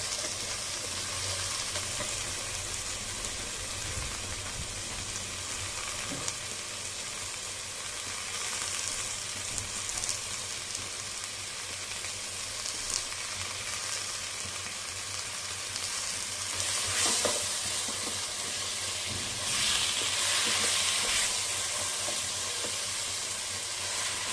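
Chopped onions sizzling in a cooking pot for a chicken curry, a continuous dense fry with scraping and stirring throughout, a few louder bursts of hiss later on.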